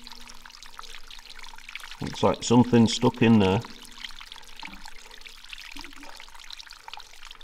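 Water from a spring trickles steadily and faintly inside a disused railway tunnel at Barnsdale. A voice briefly speaks over it.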